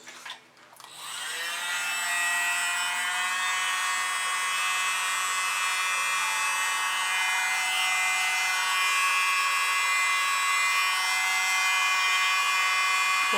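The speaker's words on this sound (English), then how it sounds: "world's smallest blower" A tiny handheld electric blower, used on an acrylic pour painting, clicks on and settles into a steady, high, buzzing whine that runs close and unchanged to the end.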